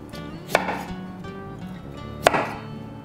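A knife cuts potatoes and radish into thin finger-length strips on a board, giving two distinct sharp chops about two seconds apart over a faint background hum.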